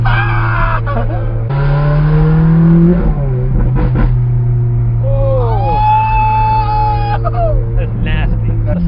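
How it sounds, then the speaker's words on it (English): Ferrari F430 with Fabspeed exhaust accelerating hard through gears, a loud raw engine note rising in pitch, dropping at shifts and climbing again, up close and dominant. "the 430 always sounded very raw to me. And with this exhaust, that is enhanced dramatically"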